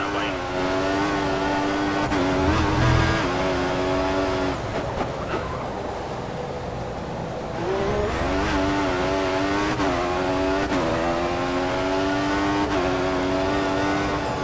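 A Formula 1 car in the racing game F1 2014 at the Bahrain International Circuit screams through rising gear changes and drops off on braking, loud and close, with a voice talking over it.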